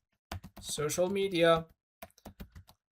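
Typing on a computer keyboard: a person speaks briefly, then a quick, uneven run of close, clicky keystrokes follows on its own.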